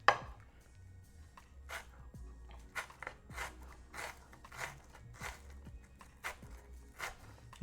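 Onions being chopped with a knife on a board, a quiet, uneven series of crisp cuts and taps, some in quick pairs, steady across the whole stretch with no talking.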